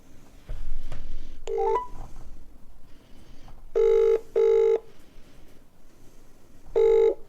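A played phone call opens with telephone tones: a short burst of dialing beeps, then repeated electronic ringing pulses in evenly spaced bursts over a faint background hiss, with no talking.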